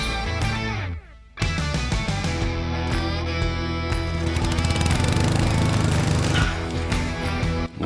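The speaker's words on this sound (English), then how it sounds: "We'll rip a piece of plywood to 3/4" A saw rips a sheet of plywood down to a 3/4 inch strip, giving a loud, steady mechanical whine that dips for a moment near the start and then runs on unbroken.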